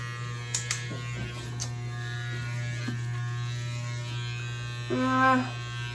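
Electric clippers shaving a man's head indoors, a steady close mains-pitched buzz running throughout with a few soft clicks and a brief louder rasp near the end.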